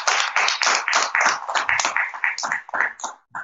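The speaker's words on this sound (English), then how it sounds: "give God a hand clap on this morning." Clapping hands in a church congregation, a run of distinct fairly loud claps in an uneven rhythm, close by, easing off near the end.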